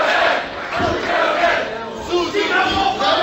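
Dense wrestling arena crowd roaring and shouting in support of the Butcher Man at a Singapore Pro Wrestling show, a loud sustained wall of cheering with no pauses.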